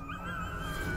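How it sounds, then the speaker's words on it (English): Cartoonish dogs barking and whimpering in the video game Trover Saves the Universe, a steady, continuous layer of yips and whines throughout one second with no talking. "What they barking at?"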